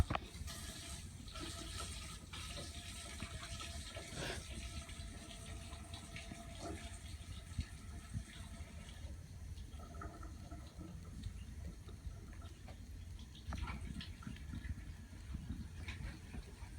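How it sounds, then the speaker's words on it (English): Running tap water pours steadily into a sink during handwashing before a nursing head-to-toe physical assessment, a continuous splashing wash that stays even throughout, close and moderately loud, with no talking. "I'm going to wash my hands."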